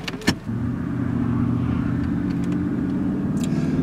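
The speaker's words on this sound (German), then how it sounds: "Ich fahre jetzt mal ein paar Meter" A 2005 Mercedes W220 S500 4MATIC pulls away from a standstill, a steady low engine hum building smoothly and holding close and even throughout, with a brief click at the start and no talk.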